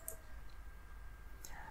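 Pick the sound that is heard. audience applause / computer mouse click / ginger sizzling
computer mouse click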